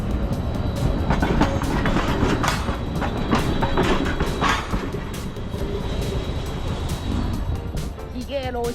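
A Changchun subway train runs on its rails, giving a loud, continuous rumble with rhythmic clicking of the wheels and a brief squeal near the end, while a voice is heard faintly underneath.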